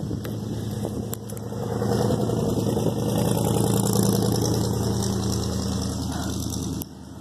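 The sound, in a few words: car engine nearby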